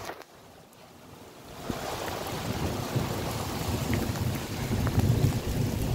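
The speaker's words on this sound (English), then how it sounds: "Still raining." Heavy rain pours during a sudden desert thunderstorm, starting faint and swelling within a couple of seconds into a steady, dense hiss with gusty wind rumbling against the microphone.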